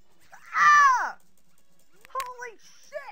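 A dog in a Legend of Zelda game lets out a loud, drawn-out whimpering cry, followed by a few shorter, fainter yelps against a quiet background.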